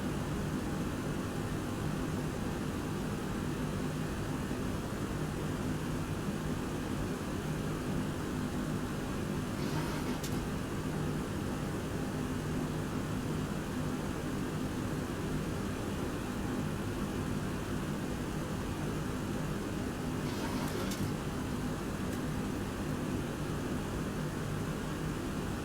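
A FlyJsim 727-100 jet taking off in X-Plane 11 from Baltimore, a constant broadband engine roar that holds loud and unchanging throughout, with two faint brief clicks and no talk.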